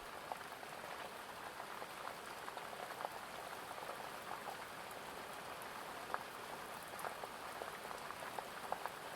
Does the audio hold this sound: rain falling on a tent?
yes